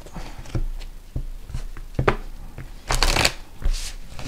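Rune cards are shuffled by hand in several brisk riffling bursts with short pauses between them, close and fairly quiet, with no talking.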